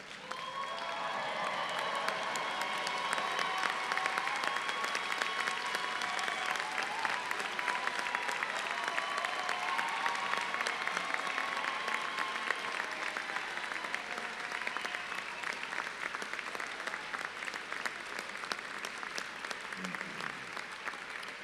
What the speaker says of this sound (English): Please, everybody stand and give them a round of applause.